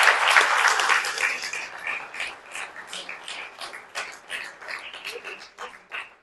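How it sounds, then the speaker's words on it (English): An audience at a sports ceremony opens with loud applause that tapers into scattered, irregular claps, with individual hand strikes becoming distinct as the applause dies away. "I think they deserve a round of applause."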